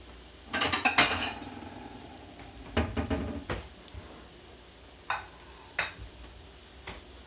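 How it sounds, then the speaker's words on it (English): Several clattering metallic knocks of potatoes tossed in a pan, a cluster early on, another around the middle, then a few single clanks spaced apart. "we're just going to do a quick toss around here to make sure that the potatoes are all coated."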